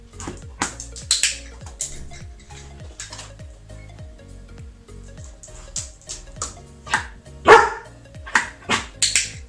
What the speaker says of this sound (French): par exemple l'aboiement qui n'est pas prévu à l'effet